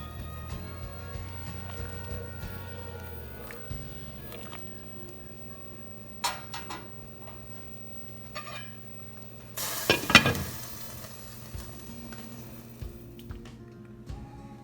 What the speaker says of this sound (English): I'm going to add the alphabet pasta and let it come to a boil